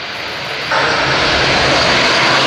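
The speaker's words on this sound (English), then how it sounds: "let's now focus back on the runway as the A400 rolls away" Airbus A400M military transport aircraft rolling on the runway at the RIAT 2013 airshow, a loud, close turboprop engine roar that jumps up in strength partway through and then stays as a powerful sustained rumble.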